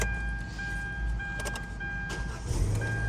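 A Kia Soul with around 200,000 miles, just fitted with a new starter, cranks and fires up, its engine settling into a steady idle with a brief rise in revs near the end; no talking.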